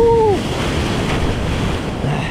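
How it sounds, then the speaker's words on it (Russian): Strong sea waves crash and wash over a rocky beach in Turkey in December, a loud continuous surf roar with wind noise, after a brief tonal whine at the start. "Вот смотрите, сейчас волна уйдет. И вы посмотрите, насколько они сильные здесь."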